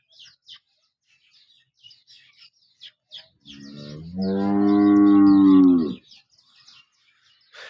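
A cow on a farm gives one long, loud moo in the middle of the clip. Small birds chirp and tweet faintly throughout.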